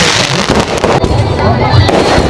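Loud wedding fireworks crackle and pop overhead in dense, continuous bursts at an Agri Koli wedding celebration, with a voice talking underneath.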